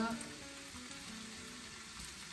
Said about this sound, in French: On va le faire fondre un petit peu.